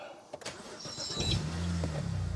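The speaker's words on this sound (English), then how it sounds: "Let's just fire the engine up." A BMW car engine cranks and catches, settling into a steady low idle after a brief click and rustle.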